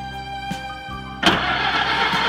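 The 86-year-old engine of a 1929 Ford Roadster pickup truck cranks with a humming starter, then catches and fires into a loud, rough running roar, close by.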